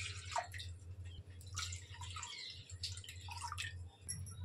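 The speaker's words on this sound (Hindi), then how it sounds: "अब मैं इसके अंदर 2 ग्लास पानी डाल देती हूँ।" Water being poured into a heated kadhai on a home stove for chakli dough, with splashing, dripping bursts and a low steady hum beneath, no talk.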